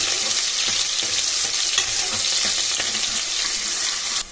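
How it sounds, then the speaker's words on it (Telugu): Chopped onions frying loudly in a pan for a ridge gourd gravy curry, a dense continuous sizzle with repeated scraping stirs throughout, close and with no voices. "ఇలా ఉల్లిపాయలు వేసుకున్న తర్వాత ఇందులోని పచ్చి వాసన పోయే వరకు మనం కలుపుకొని పెట్టుకోవాలి"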